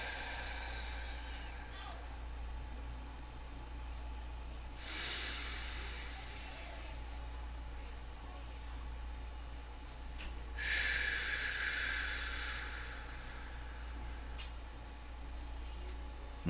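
Slow, deep breaths, with one long inhale and then a long exhale several seconds later, airy and close over a steady low hum and no speech.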